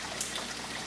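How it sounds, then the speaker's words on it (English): Chicken stock or vegetable broth poured into a paella pan makes a short, soft liquid splash and trickle, close and fairly quiet, with no voices. "you can also use chicken stock or vegetable broth like we're doing right now"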